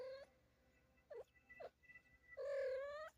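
A cat meows indoors, wanting to be let outside: a short cry, two brief chirpy calls, then a longer, louder drawn-out meow, close by with no talking.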